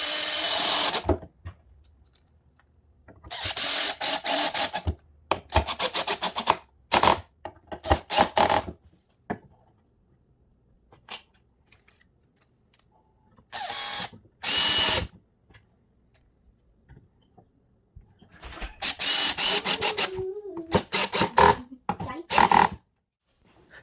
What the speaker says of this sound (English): I'm going to screw on the coat hangers.